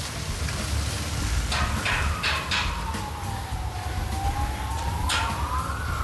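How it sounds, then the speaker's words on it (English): An emergency vehicle siren wails in the distance, a faint rising and falling tone drifting over steady outdoor noise, with a few brief clatters nearby. "Nice sirens in the background."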